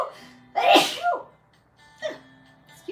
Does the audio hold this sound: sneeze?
yes